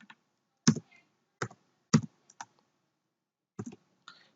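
Python code is typed on a computer keyboard in a few sparse, close clicks, some in quick pairs, separated by short silent pauses, with no voice.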